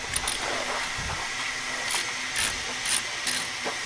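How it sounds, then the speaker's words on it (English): A ratchet being worked on a steam train, heard as faint mechanical clicks and knocks under a continuous loud hiss and rumble from the locomotive, with no voices. "I've just got the ratchet on there,"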